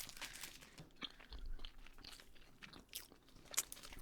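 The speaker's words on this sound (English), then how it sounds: "I'm breaking the crimpets" Butterscotch-iced crimpets being pulled apart by hand, giving soft sticky tearing and small crunchy crackles at close range, with no voices.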